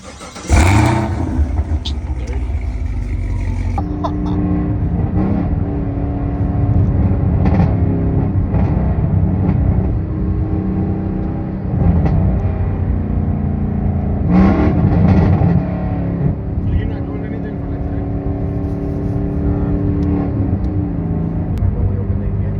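A modified Chevrolet Camaro's engine rumbles loud and close while driving, swelling into repeated revs and easing back to a steady drone throughout.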